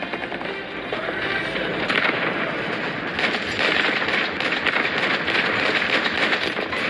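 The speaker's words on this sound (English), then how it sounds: "Ammunition exploded with the cannon." Tank ammunition exploding in a tank video game: a rolling, rumbling burst of blasts and rattling debris that swells after the first second and keeps crackling at a fairly steady loud level.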